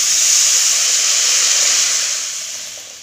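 Ground mustard paste thinned with water hits a hot pan, setting off a loud, steady sizzling hiss that fades slightly toward the end.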